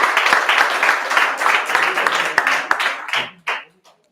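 A graduation party audience applauds for a shy presenter, a dense wash of many hands clapping loudly for about three seconds before tapering off into a few scattered claps.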